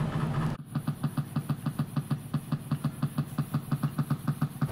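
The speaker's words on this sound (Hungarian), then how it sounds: "Előbb ez a masina rekonstruálta a V-motornak, a tipikus Harley Davidson V-motornak a hangját" A Harley-Davidson Milwaukee-Eight V-twin motorcycle engine idles with a steady, uneven loping potato-potato pulse, close and clear after a brief louder burst at the start.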